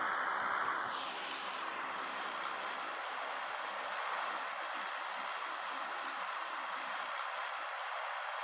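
An airplane flying over Miramar in PUBG during a grand finals match, with a steady droning engine roar after a brief sweeping whoosh at the start, continuous and fairly loud with no talk.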